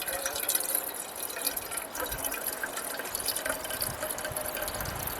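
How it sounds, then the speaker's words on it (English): Water pours steadily from a bottle into a cooking pot at a log cabin campsite, a continuous close bubbling, gurgling trickle that lasts the whole stretch. "get some water in the pot and get ready"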